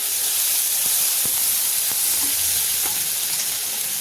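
Tomatoes frying in hot oil in a pan for a vegetable dhal, a steady loud sizzle and hiss with faint occasional pops throughout.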